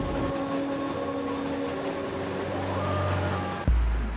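The 7 subway train runs on elevated track through Queens, a loud steady rumble of wheels on rails with tonal hum and screech, ending in a sharp clank close by.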